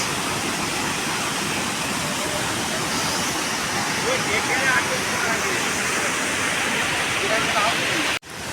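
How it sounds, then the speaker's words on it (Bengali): Usri Falls roars as a waterfall and rushing stream, a loud, dense and unbroken wash of water that cuts off abruptly near the end. "তোমরা হয়তো এই ঝর্নার আওয়াজে আমার আওয়াজটা শুনতে পাবে না"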